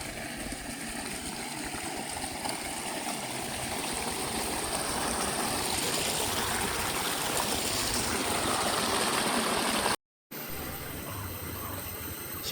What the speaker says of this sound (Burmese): စမ်းကြောင်းစမ်းကြောင်း